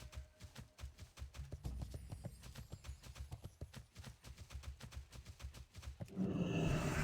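A horse's hooves clip-clop steadily in World of Warcraft, a quick, even rhythm of soft thuds that runs throughout, fairly quiet, ending in a burst of louder rushing noise.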